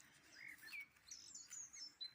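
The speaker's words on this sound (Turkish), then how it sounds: "Kuş seslerini dinliyorum." Small birds chirp and tweet in short, bright phrases against a quiet outdoor background in a village garden.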